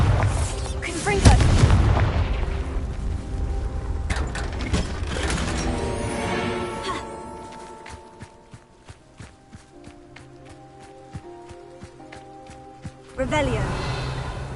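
Bombarda and Confringo explosion spells in the Hogwarts Legacy video game burst with a loud, deep boom followed by rumbling debris, then quieter footsteps and rattling before another loud blast.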